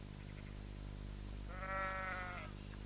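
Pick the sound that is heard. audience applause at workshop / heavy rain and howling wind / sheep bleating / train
sheep bleating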